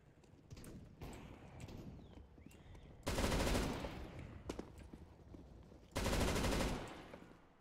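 Two loud bursts of gunfire in CS:GO, each under a second long, rise sharply out of quieter game noise with scattered footstep-like clicks, the bursts separated by about three seconds.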